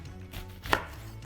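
A single knife chop through an onion lands on a board, one crisp close thud over quiet kitchen background, with no talking.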